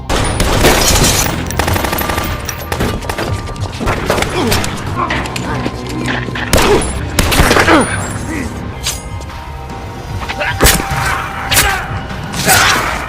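A gunfight between mafia gangsters in an action film: dense bursts of gunfire and impacts crackle throughout, with a narrator talking over the shots.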